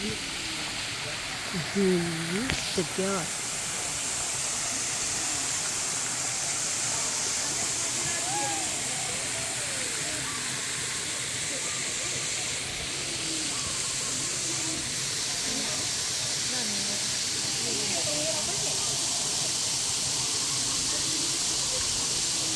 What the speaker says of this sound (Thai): โอ้ น้ำตกสวย